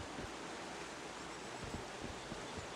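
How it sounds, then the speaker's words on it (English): Waterfall ambience in the Once Human survival video game, a soft, steady broadband rush of falling water with faint low thumps, continuous and quiet with no voices. "Yeah, so there's a waterfall here."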